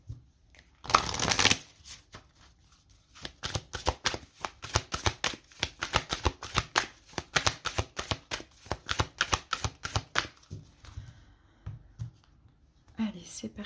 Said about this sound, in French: Allez, on va poser les cartes de la lunologie.